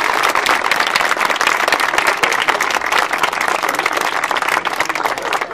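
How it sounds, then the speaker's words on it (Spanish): Onlookers applaud as a Virgin Mary procession passes through a neighbourhood in Ezeiza on 8 December, a dense, continuous burst of clapping from a crowd that holds at full strength. "Le damos un aplauso a la Virgen"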